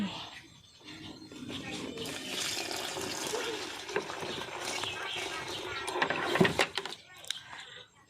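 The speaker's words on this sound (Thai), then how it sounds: "แล้วนำน้ำเทลงไปเลย" Water being poured into a coconut beetle feed mix, a soft splashing, rushing pour with rubbing and mixing noises, faint and close, with some talking around it.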